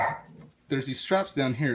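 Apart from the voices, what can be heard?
dog Taco barking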